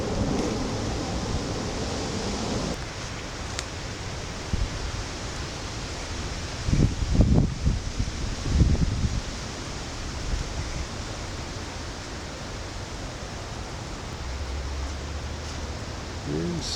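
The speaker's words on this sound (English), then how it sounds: "It's a little windier than I'd like" Wind blowing outdoors around a waste oil burner: a steady broadband rush fills the whole clip, swelling into stronger gusts near the middle before settling back to a constant roar, with no voices.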